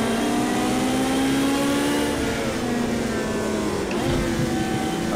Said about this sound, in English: My god, that turbo kicks in something else.